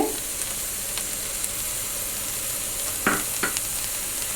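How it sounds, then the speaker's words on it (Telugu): Okra fry in a pan with salt and coconut chili powder being stirred, a constant soft sizzle with a couple of scraping stirs nearby. "ఇప్పుడు మనము బాగా కలబెట్టుకున్నాము."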